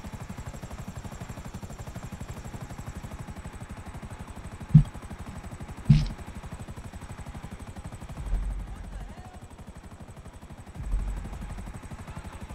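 A helicopter's rotor chops steadily at a distance in GTA 5, with two sharp bangs and a couple of low thuds breaking through the drone.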